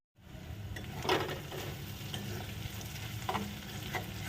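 Spices for tadka dal sauté in a pan, a steady close sizzle broken by a few louder stirring scrapes and clinks, with no voices.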